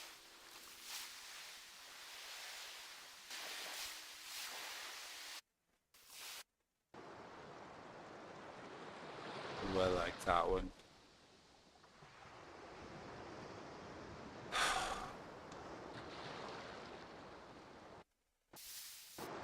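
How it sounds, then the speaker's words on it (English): A played-back recording of ocean waves gives a soft, hissing surf wash that swells and recedes, cut by brief silences and occasional louder bumps, with a person briefly speaking over it. "Until you answer me, we're just gonna listen to ocean sounds."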